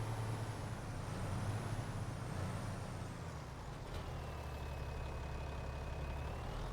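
Tractor engine in the Farming Simulator game running at a steady, loud drone with a constant low rumble and a faint high whine, continuous throughout with no talk.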